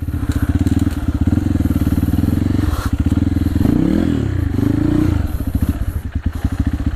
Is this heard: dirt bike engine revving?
yes